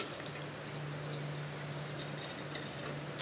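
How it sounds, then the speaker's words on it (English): A little water pours into a very large pot for a Biolite rechargeable wood-burning stove, giving a steady soft trickling wash with a low hum underneath, continuous and quiet, with no voices. "We'll put just a little bit of water in there,"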